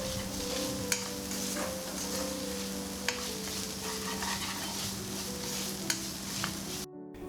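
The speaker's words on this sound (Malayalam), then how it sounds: "നല്ലതുപോലെ വറുത്തെടുക്കണം" Chopped ginger with green chillies and curry leaves frying in a pan for Kerala sadya inji curry, giving a steady low sizzle with a few sharp spoon scrapes and taps, close by and without voices.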